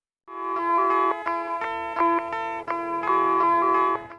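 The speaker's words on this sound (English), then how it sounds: "a manipulated sample of a United Kingdom telephone ring intertwined with the twang of a rubber band" A warbling, echo-laden manipulated UK telephone ring sample, intertwined with a rubber band twang, repeats in short bursts, its pitch wobbling and twanging as if stretched, loud and processed with no voices.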